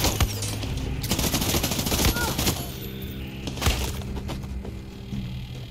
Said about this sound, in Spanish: A veces que los disparos no sé dónde vienen, tío.